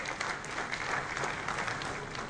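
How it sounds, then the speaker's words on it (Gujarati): Audience applause fills a Surat hall at a police honouring ceremony, welcoming the city's mayor: steady, dense clapping from a large crowd throughout, fairly distant and even, with no talk over it. "આપણે સૌ જોરદાર તાળીઓથી એમને વધાવીશું"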